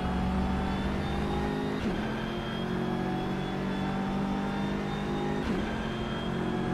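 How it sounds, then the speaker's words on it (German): A BMW M6 GT3 race car in rFactor 2 laps Silverstone, its engine a steady, fairly muted in-car drone broken by two brief gear-shift dips. "Ich finde, der Sound von dem M6 kommt aber ganz gut hin."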